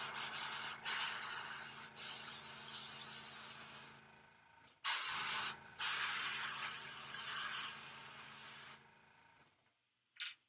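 Airbrush spraying paint onto a scale model, a steady close hiss in long bursts with a few brief pauses and a short gap near the end, no voices.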